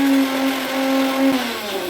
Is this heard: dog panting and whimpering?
no